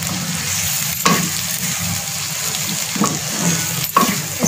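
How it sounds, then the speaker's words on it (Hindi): Beaten egg sizzles loudly in a pan for vegetable fried rice. A steady, close frying hiss runs throughout, broken by a few sharp scrapes of a spatula. No one speaks. "बस इस तरह फ्राई होने दें ताकि थोड़ा सा ना पीसेस में बन जाएगा"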